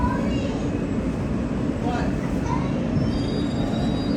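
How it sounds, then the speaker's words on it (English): A Queensbound F local subway train at Roosevelt Island station gives a steady low rumble and hiss, with faint tonal whines rising near the end, loud and continuous throughout. "This is a Queensbound F local train."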